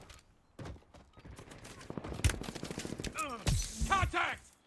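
Enemy gunfire in Call of Duty: Warzone crackles in bursts of rapid shots, loud and close, mixed with game sounds and brief voice chatter.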